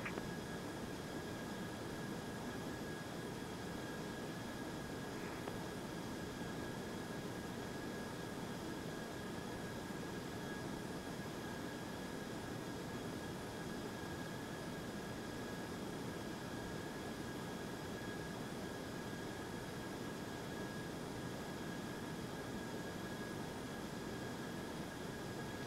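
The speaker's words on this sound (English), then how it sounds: "cleared for takeoff, no delay" A J328 jet airliner in the Prepar3D v4 flight simulator game roars through its takeoff, a loud, steady, unbroken engine drone with a faint whine on top and no voices.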